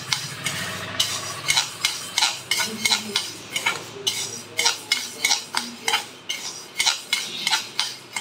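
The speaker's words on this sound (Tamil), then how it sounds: "பயிரை வறுத்துக்கலாம்." Green gram dry-roasting in a hot kadai, the grains scraped and stirred with steady, rhythmic strokes that rattle and clink against the metal, close and fairly loud with no talking.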